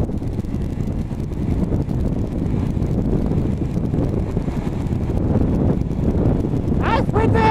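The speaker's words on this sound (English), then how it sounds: "That's windy!" Wind buffets the microphone steadily while riding a bike on a test of disc versus drum brakes, a loud continuous roar filling the whole stretch, with a brief higher whine near the end.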